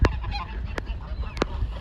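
A goose honks three times in short, sharp bursts during a rainy swan rescue outdoors. The calls are close and loud over a low background rumble.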